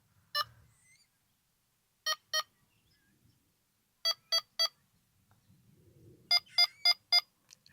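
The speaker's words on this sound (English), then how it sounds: "Beep speed allows you to change the amount of beeps that you get for a given movement of line" A Delkim v2 carp fishing bite alarm gives short, sharp electronic beeps in bursts: one beep, then two, three, two and four, each group faster and tighter than the last, with quiet gaps between groups.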